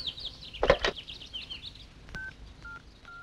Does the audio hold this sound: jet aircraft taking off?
no